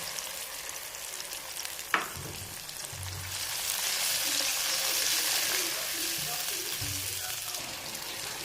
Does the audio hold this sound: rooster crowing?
no